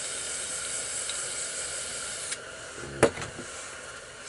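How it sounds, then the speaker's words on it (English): A spray paint can hisses steadily as black paint is sprayed for a cliff-and-tree artwork, a continuous broadband spray with a couple of sharp clicks and knocks near the end. "So I sprayed a bunch of black in here."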